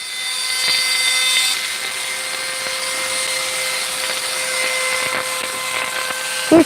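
A small rotary drill keeps whirring steadily after boring a hole through an agate stone, a continuous high-pitched motor hum with faint clicks, ending in a brief knock.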